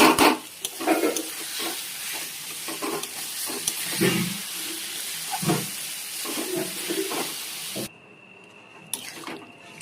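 Water poured into sizzling chicken kosha curry in a pan and stirred, giving loud frying hiss and scraping stirs that cut off abruptly near the end, close up, with no talking.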